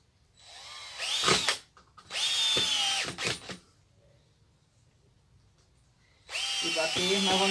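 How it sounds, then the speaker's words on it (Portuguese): A power drill drives screws into an old tyre in three loud whirring bursts, two close together, then a quiet pause before a final sustained run. "E bater novamente dois parafusos desse lado"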